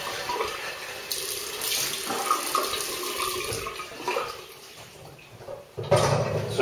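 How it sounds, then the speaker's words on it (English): Tap water runs steadily into a basin while soap is rinsed off after a shave, a close hissing splash with shifting bursts as hands move through the stream. "I'd be even more pleased if I rinsed all the soap off."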